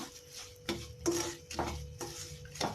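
Moong dal roasting in ghee in a pan for halwa, with spoon stirring and scraping against the metal in several distinct strokes over a soft, steady sizzle.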